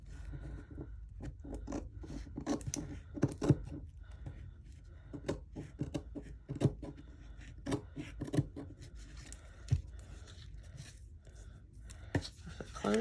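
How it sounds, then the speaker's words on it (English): Scissors cut paper to make a junk journal pocket, producing a run of close, crisp snips and rustles with uneven timing and a quiet background between them. "I have to cut a tiny little bit off here"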